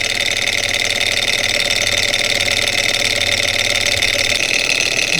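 A small Stirling engine generator kit runs nearby, a constant, fairly loud mechanical whirring hum with a faint rattle, steady and unbroken throughout.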